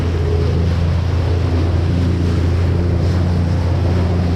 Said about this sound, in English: That's a speedboat, it looks like.